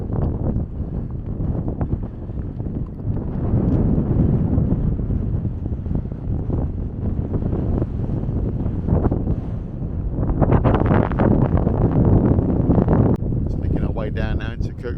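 Strong wind blows across a coastal hillside in the Faroe Islands, a loud, continuous roar buffeting the microphone for the whole stretch, with gusts swelling and easing and no clear voices.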